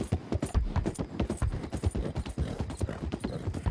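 Horses galloping hard in Red Dead Redemption 2, a dense rapid drumming of hoofbeats that stays loud and close throughout, with no talk over it.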